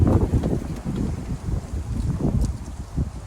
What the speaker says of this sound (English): Man, this wind is terrible today.